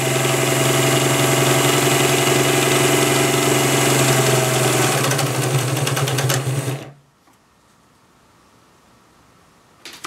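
A 1951 Pfaff 130 sewing machine runs a zigzag stitch with a steady, close, loud mechanical whir and hum for about seven seconds, then stops abruptly into near silence.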